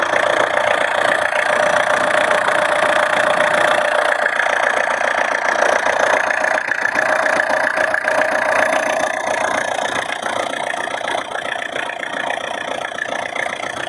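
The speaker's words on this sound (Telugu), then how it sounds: "వెహికల్ యొక్క ఇంజన్ చూసుకోండి." A 2011 Tata Indica V2 car engine idles steadily up close, a continuous mid-pitched hum with a faint rattly knock that holds even for about fourteen seconds, no voices over it.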